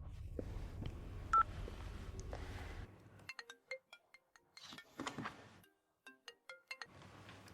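Telephone keypad tones beep in a quick irregular series after a burst of background noise, followed by a short pause and more dialing beeps, alone and fairly close.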